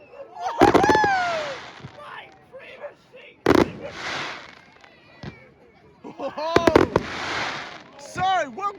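Swanage Carnival fireworks display: loud shell bursts with sharp cracks and long crackling hiss, in separate volleys with quieter gaps between, close and booming, with excited voices from the crowd between bursts.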